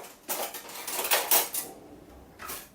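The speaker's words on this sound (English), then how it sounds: "So we'll get a teaspoon out." Teaspoon fetched from a kitchen drawer while cooking wild garlic pesto, several bright metallic clinks and rattles of cutlery in quick bursts, close and fairly quiet, with no talking.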